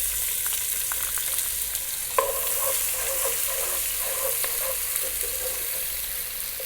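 A cup of chopped onions fries in hot oil with a continuous close sizzle, punctuated by light clicks and scrapes of stirring.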